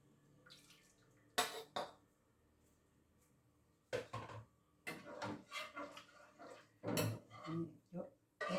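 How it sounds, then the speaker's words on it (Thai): Clattering and scrubbing of a frying pan being washed, with bursts of water and knocks, while people talk intermittently nearby. "ล้างกระทะก่อน"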